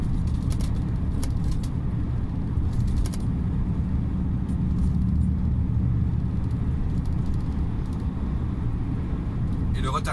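Heavy truck cruising downhill at about 90 km/h with its retarder engaged, a steady loud low engine-and-driveline rumble filling the cab, continuous throughout with faint road noise on top.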